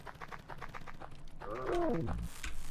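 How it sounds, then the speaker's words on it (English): A small bird in a video game coos briefly as a soft, rising-and-falling call over faint rhythmic background game noise, fairly quiet and close. "Just a wee little bird."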